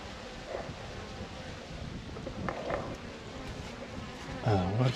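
Honey bees from a swarm lodged inside a wall buzz steadily at close range, a dense insect drone with brief louder passes near the microphone.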